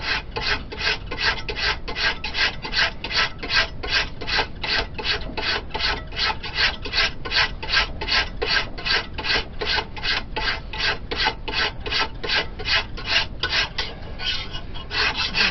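Steady back-and-forth rasping of a file or abrasive smoothing a hand-forged steel colonial patch knife blade, fast even strokes about two per second, close and loud, with no talking.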